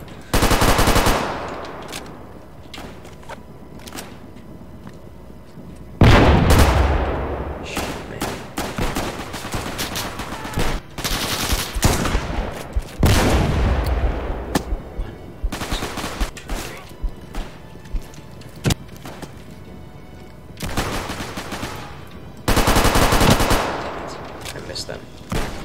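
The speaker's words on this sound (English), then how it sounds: "The shots are coming from the right too." Bursts of automatic gunfire and single shots crack in the video game Frontline: Karelia, several loud volleys separated by quieter gaps with scattered distant shots between them.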